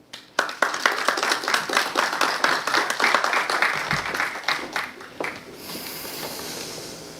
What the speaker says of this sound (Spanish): a quien recibimos con fuerte aplauso